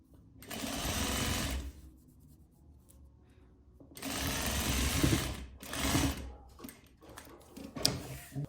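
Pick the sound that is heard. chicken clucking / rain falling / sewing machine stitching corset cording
sewing machine stitching corset cording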